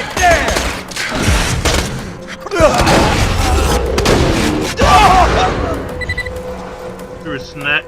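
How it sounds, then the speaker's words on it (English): Explosions and gunfire from a slag grenade in the Borderlands video game, with loud booms and bursts of fire packed across the span, mixed under game noise and voices. "Threw a slag grenade and it wasn't too bad."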